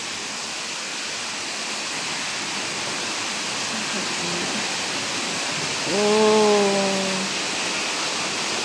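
Water pours steadily inside a cave, a dense even rush filling the space like heavy rain, while a voice exclaims briefly over it.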